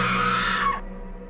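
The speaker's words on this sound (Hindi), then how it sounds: "तभी नेहा को दिया की चीख सुनाई देती है।" A woman's scream in a Hindi horror audio drama, a single sustained shrill cry lasting under a second that cuts off abruptly, leaving a faint low hum.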